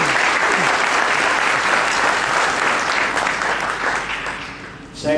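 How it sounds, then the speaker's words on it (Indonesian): Sustained applause from a seminar audience, dense steady clapping filling the room and holding loud before tapering off near the end, heard alone. "Aplaus untuk beliau."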